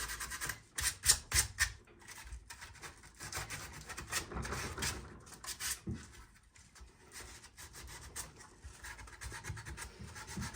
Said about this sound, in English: I'm just going to sand most of it here